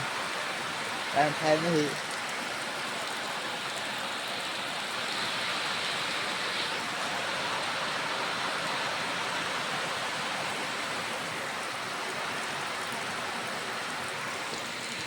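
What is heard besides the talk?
heavy rain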